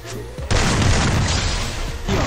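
A gunshot in the battle-royale game Free Fire lands as a sudden loud boom, followed by a sustained dense rumble lasting about two seconds, close and prominent.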